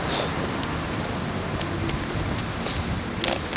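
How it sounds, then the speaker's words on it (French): Light rain begins falling on Marienplatz in Munich, a steady broadband hiss of drops on pavement with a few soft ticks and faint city background noise, and no voices. "Mariannplatz, il commence à pleuvoir."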